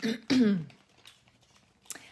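A person clears their throat with a rough, guttural rasp, followed by quiet breathing and a faint small sound.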